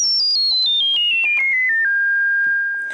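Micromoog synthesizer on an early-revision circuit board plays a high, clear tone that steps down in pitch, with faint crosstalk ringing and ticks beneath it, then holds one steady note alone.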